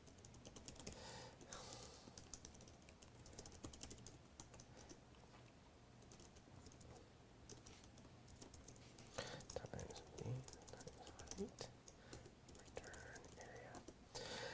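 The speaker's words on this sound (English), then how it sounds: "Now I'm just going to type the function" Steady clatter of fingers typing on a computer keyboard while entering Python code, with quick irregular keystrokes running throughout at close range.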